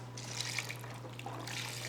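Chicken broth pours from a carton into a cooking pot, a soft continuous trickle and splash that swells and fades over a low steady hum.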